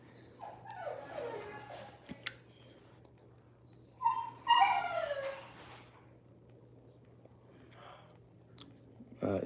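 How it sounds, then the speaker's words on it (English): A dog makes several whining, yelping barks at a distance, one burst early and a louder cluster midway, separated by quiet stretches over a faint room hum. "Dog barking."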